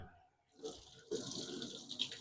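Warm water running from a tap in a workshop, gathering into a steady broadband rush after a quiet start, with a few brief splashy bursts, heard up close.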